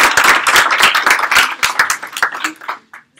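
A small group at a legal workshop claps close by, individual hand claps distinct and brisk, thinning out and stopping after about three seconds.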